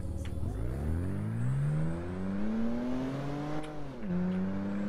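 Car engine in the GTA RP game revving hard while standing still, throttle climbing and falling in repeated surges with a steady rising whine, loud and close with no talk.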